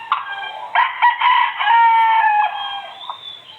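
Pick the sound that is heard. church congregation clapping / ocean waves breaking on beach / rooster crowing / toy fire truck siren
rooster crowing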